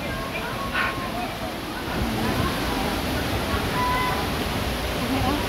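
Cambugahay Falls waterfall on Siquijor, a steady broadband rush of falling water heard nearby, constant and fairly loud, with faint voices briefly audible underneath.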